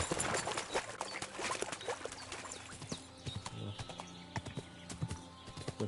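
Horse hooves clip-clop steadily and rapidly in the video game Kingdom Come 2, fairly loud and close, with a dense rhythmic patter of hoofbeats throughout.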